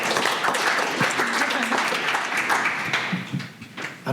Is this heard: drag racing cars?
no